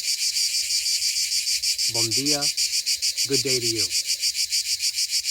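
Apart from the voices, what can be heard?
cicadas chirping in Portugal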